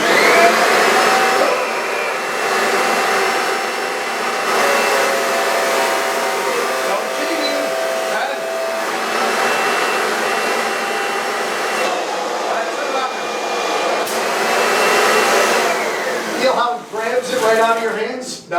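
Kirby vacuum cleaner running during a suction test on rugs, a loud steady motor whine with tonal hum that shifts pitch slightly as suction changes, with voices speaking briefly near the end.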